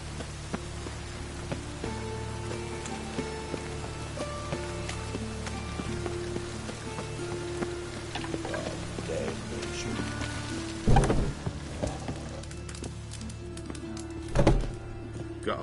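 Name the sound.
rain falling in video game The Witcher 3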